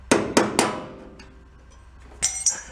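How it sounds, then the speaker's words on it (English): A hammer gives three quick metallic taps on a scratch-built sheet-metal repair panel for a rusty Ford E100 pickup, followed by a ringing decay, then two more lighter clinks near the end, close and clear. "Give a little tap with the hammer."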